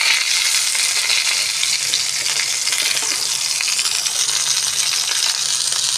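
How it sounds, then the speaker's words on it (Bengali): Medium-sized potatoes fry in hot oil alongside parwal. The sizzle is steady, dense and close, hissing continuously with no voices. "আলুটা ভাজা হচ্ছে"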